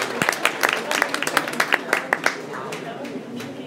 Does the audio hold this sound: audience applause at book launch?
yes